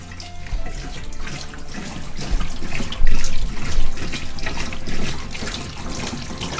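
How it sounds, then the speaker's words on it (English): Water from army water cans pours steadily and loudly into a sink drain in a garden-shed off-grid bathroom, a continuous splashing gush with surges throughout. "right now I'm dumping it in the sink to check our drain."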